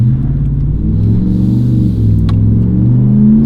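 A 2019 or newer Dodge RAM pickup with a 5.7L engine and an MBRP dual split rear cat-back exhaust accelerates, giving a loud, steady, deep exhaust drone that rises smoothly in pitch, heard close and alone.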